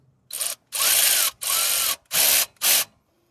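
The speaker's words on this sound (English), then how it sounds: "we are going to tighten the clamp on the distributor" A ratchet tightens the distributor clamp on a 1962 International C-100 six-cylinder engine, giving four rapid, loud clicking bursts close by, separated by brief pauses.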